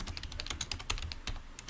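Rapid, continuous typing on a computer keyboard as a search is entered, close and crisp keystrokes in a dense run with no pauses or voices.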